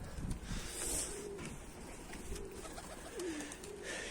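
Pigeons coo softly in short rounded calls outdoors, with faint background noise, while a tumbler pigeon flies back toward the rooftop.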